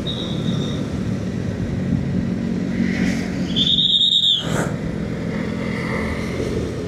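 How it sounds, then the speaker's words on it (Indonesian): A Honda ADV 150 scooter horn gives one loud, clear, sustained blast of about a second, close by, over a steady engine and road rumble on a night ride along the Pantura highway. "buat kalian yang belum dengar klaksonnya kayak gini teman-teman, sekarang klaksonnya"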